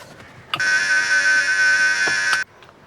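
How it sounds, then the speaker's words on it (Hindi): An electronic doorbell rings once, a sustained bright tone lasting about two seconds, then cuts off, leaving a quiet room with faint clicks. "अब यहाँ घर की घंटी बज रही, कोई खोल नहीं रहा है"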